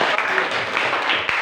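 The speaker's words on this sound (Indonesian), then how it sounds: "Ya, tepuk tangan dulu." A room full of people claps together in a classroom group session, a dense, steady burst of applause that fills the whole short moment with a little voice mixed in.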